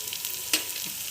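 Paneer masala spices sizzle and fry in a pan while being stirred, a steady close crackle with one brief louder scrape of the spoon midway.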